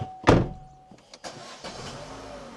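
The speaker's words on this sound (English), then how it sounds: "Let's turn the car on to bleed the cooling system." A car engine is started after its coolant has been topped up, with a sharp loud burst of cranking and catching near the start, then settling into a quieter steady idle with a few small knocks.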